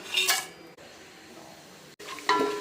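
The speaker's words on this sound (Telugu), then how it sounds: "నూనె వేడెక్కిన తర్వాత గరం మసాలా పట్టా లవంగ జాపత్రి ఇలైచి స్టార్ ఫ్లవర్ సాజీరా బిర్యానీ ఆకు" Whole garam masala spices, including cinnamon, cloves, mace, cardamom, star anise, shahi jeera and bay leaf, fry in hot oil for mutton pulao. Short bursts of metal clinking and stirring open and close the clip, with a soft sizzle between them.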